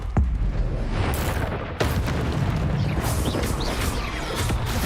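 Magical fire-blast explosions from the Confringo spell in the Hogwarts Legacy video game roar loudly, with deep booms and crashing bursts. A dense, continuous barrage of combat effects fills the background.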